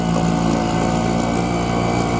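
A Sharmax 4 hp outboard boat motor runs steadily at half throttle, giving a loud, close, continuous buzzing drone with no pauses.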